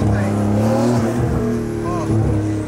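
A Porsche 991 engine revs loudly as it downshifts, with a steady, dense roar throughout and people talking over it.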